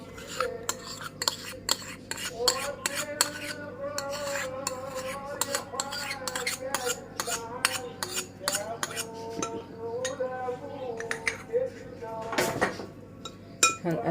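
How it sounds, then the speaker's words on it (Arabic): A spoon mixes eggs and butter in a bowl for doughnut batter, giving repeated clinks and scrapes against the bowl in an irregular rhythm under background music. "هنقلبهم مع بعض كده كويس. انا قلبتها كويس اهو بالمعلقة"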